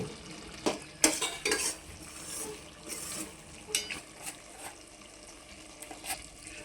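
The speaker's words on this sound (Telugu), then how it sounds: "ఈ ముక్కల్ని ఈ విధంగా స్మాష్ చేసుకుంటూ కలుపుకుంటూ ఉండాలండి నిదానంగా మీడియం ఫ్లేమ్లో పెట్టుకుని" Bread pieces being mashed and stirred in a pan for bread halwa over a medium flame, with repeated sharp utensil scrapes and clinks against the pan amid a soft, faint sizzle.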